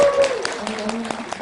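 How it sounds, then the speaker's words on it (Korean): Clapping at a year-end fan gathering and constitutional debate forum, with a few distinct claps over a murmuring room and voices speaking throughout. "다시 한번 큰 박수"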